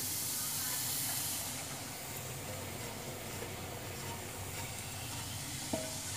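Garlic browning in a frying pan with a little salt, a steady sizzling hiss that runs throughout, slightly louder at the start, with a brief knock near the end.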